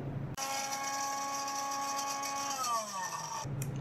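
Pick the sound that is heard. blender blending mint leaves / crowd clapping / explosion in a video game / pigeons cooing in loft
blender blending mint leaves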